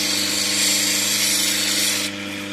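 A power tool grinds and polishes an Australian Coober Pedy opal to remove a grey veil, giving a steady, loud whirring drone with a constant low hum that drops slightly near the end.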